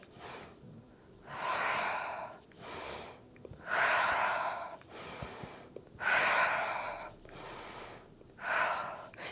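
Slow, deep breaths in and out during a beginner hatha yoga session, each long airy inhale and exhale lasting about a second or more, repeated steadily and close to the microphone.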